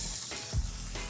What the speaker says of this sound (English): I'm gonna add in my onions and we're gonna saute those.